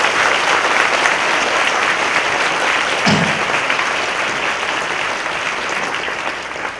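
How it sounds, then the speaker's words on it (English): An audience applauds after a talk: sustained dense clapping that holds steady and fades slightly toward the end, with a brief low thump partway through. "Let's give a real good round of applause."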